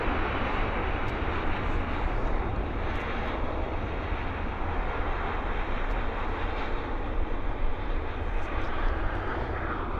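An airliner landing at Vancouver Airport, giving a sustained, broad jet roar that stays steady and fairly distant, with no talking over it.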